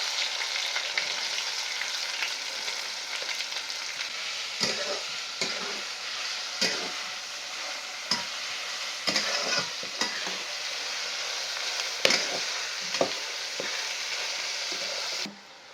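Cumin and mustard seeds sizzling in hot oil for misal, a steady close crackling hiss with occasional louder spits and a few light stirring clicks, continuing unbroken until it cuts off at the end.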